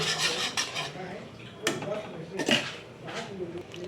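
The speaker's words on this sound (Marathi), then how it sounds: "आपल्याला हे सगळं मिश्रण एकसारखं हलवत राहायचं आहे" A carrot mixture being stirred in a pan on a gas stove, with spoon-on-metal scrapes and clinks in irregular bursts, close and fairly quiet, with a voice faintly underneath.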